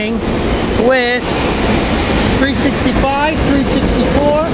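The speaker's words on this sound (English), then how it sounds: "And we got Chestnut Hill train 758 leaving" Chestnut Hill commuter train pulling out of a station at rush hour, with loud continuous rail rumble and repeated high wheel squeals rising and falling, steady and close throughout.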